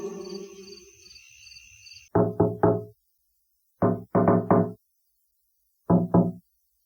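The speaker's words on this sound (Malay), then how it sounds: "dah dengar bunyi ketuk-ketuk tingkap apa semua kan" Knocks on a hotel window at night: three quick raps, a pause, three more, then two, sharp and close, following a faint hum of insects that falls silent.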